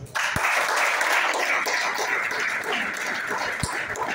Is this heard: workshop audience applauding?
yes